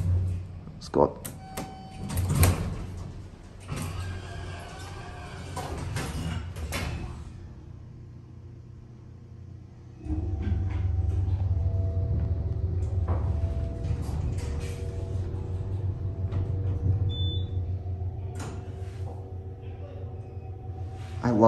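A Westinghouse hydraulic elevator at the Hyatt Regency in downtown Houston runs upward: after voices and door clatter, a steady low motor hum sets in and drones continuously, with faint clicks and hiss on top.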